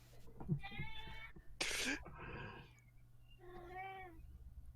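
A cat meows three times in fairly close succession, drawn-out harmonic cries with a brief sharp noisy burst between the first two, heard over a low steady hum.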